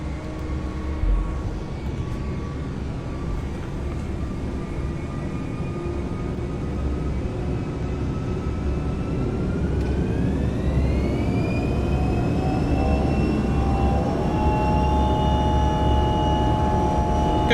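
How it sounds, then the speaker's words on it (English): Airbus airliner engines spooling up for takeoff in a flight simulator, a loud steady roar with a rising whine that climbs in pitch as thrust builds, continuous and close. "so let's go ahead and perform our takeoff"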